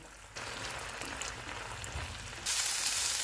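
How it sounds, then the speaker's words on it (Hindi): Chicken sizzling and frying in a pan on a stove over medium heat as the water cooks off, a steady close crackling hiss that grows louder near the end, no voices. "चूल्हे को मीडियम कर देते हैं और पानी ड्राई होने तक इसको भूनेंगे"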